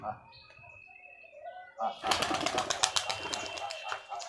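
A Giribaz pigeon is let go and takes off with a burst of rapid wing flapping, close and loud, following a stretch of talking and background voices.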